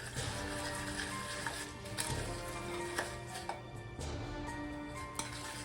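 Pumpkin seeds coated in oil and a spice rub are stirred in a bowl, with repeated soft scrapes and light clinks over a continuous gritty rustle, close and moderately loud, and no talking.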